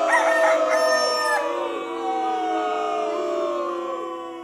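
A rooster crows loudly and close, one long wavering cock-a-doodle-doo call that fills most of the few seconds, with no other sounds around it.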